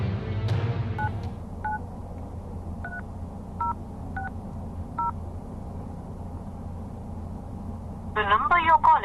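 Telephone keypad dialing tones as a reporter calls a phone number, with six or so short evenly paced beeps over a quiet low hum, followed by a brief burst of voice at the end.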